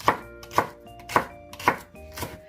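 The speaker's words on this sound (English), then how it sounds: "is your celery and carrots. This dish, really, everything is cut at a slant." Celery and carrots sliced at a slant on a cutting board, five evenly spaced knife chops at close range, crisp and distinct against a quiet background.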